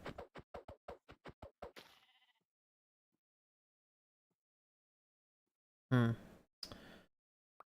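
Sheep bleat in the Minecraft video game: a quick run of short, evenly spaced blocky bleats, then silence, then two more louder bleats close up.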